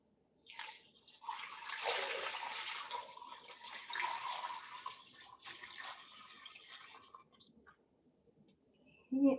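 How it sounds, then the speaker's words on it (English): Water pours steadily into a large pot of vegetable scraps for broth, a broad splashing rush that swells and fades over several seconds, with no talk. "Now I have a big pot of veggie scraps and I'm going to add a bunch of water."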